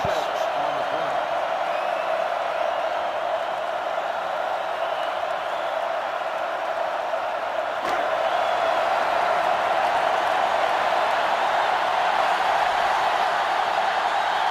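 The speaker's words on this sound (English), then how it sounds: "This stadium is getting loud. This sellout crowd is really making a difference now as these guys can't even call the play." A sellout stadium crowd in the GameCube video game NCAA Football 2005 keeps up a loud, dense, continuous roar that never lets up.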